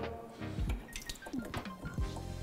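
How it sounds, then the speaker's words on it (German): Hot water runs and drips from the tap of a kitchen water cooker used for blanching tomatoes, with light splashing and a faint clink or two, close by. "Der kommt gleich direkt heißes Wasser raus."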